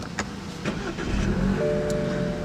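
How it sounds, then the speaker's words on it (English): A 2013 BMW 328i with a 2-liter turbo four-cylinder starts up: a few clicks and a short crank, then the engine catches and settles into a low, steady idle, heard close. "what you're hearing is the new 2-liter turbo 4-cylinder engine"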